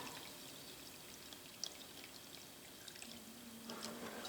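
Derusting solution is poured over rusty rotary table parts and rods in a container, a quiet steady liquid pour and trickle heard close up in a still room, with a few small clinks.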